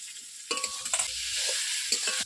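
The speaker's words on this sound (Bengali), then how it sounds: "এই যে ইঁচড়টা ভাজা ভাজা হয়ে গেছে, এখন এই বাটা মশলাগুলো সব দিয়ে দেবো।" Ground spice paste is stirred into fried jackfruit in a hot pan, giving a steady sizzle with repeated scraping and stirring strokes, close up and with no talk.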